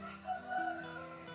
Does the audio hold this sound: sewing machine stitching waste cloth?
no